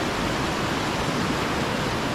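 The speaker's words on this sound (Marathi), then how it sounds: "नदीच्या पाण्याचा खळखळ आवाज तुम्हाला येत असेल." River water rushes beneath a swaying double-decker bridge in Meghalaya, a dense, steady roar with no breaks, loud and close.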